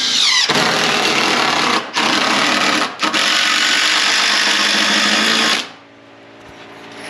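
Power tool working on a very heavy-duty trough, a loud, close, sustained whirring run broken by two brief pauses before it stops abruptly, leaving quiet room tone.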